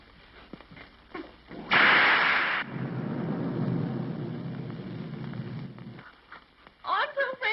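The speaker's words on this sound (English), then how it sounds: "I'm so afraid of thunder and lightning" A loud thunderclap bursts in, then a long rolling rumble with rain-like hiss trails off over several seconds, heard in an old film scene with people talking before and after.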